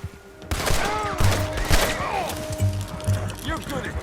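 Red Dead Redemption 2 gameplay gunfight: a rapid scatter of sharp gunshots and bursts of revolver and rifle fire, loud and close, mixed with shouted voices and clattering effects.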